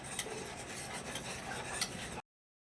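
A spoon scrapes and stirs thick maize flour dough in a pot in quiet, continuous rubbing strokes, with no talking, stopping abruptly after about two seconds.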